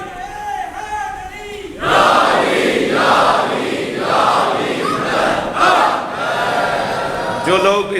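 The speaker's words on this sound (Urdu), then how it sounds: "آج بڑے آرام سے آپ نعرہ حیدری لگا دیتے ہیں" A majlis congregation at an imambargah loudly chanting the Naara-e-Haidari slogan in several surging bursts of massed voices, after a single voice opens and before another voice leads again at the end.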